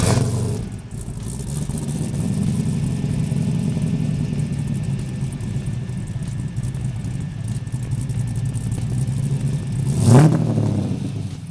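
A 1967 Camaro resto mod's engine drones steadily during a test drive, a low continuous rumble under road noise that swells into a brief louder rev near the end.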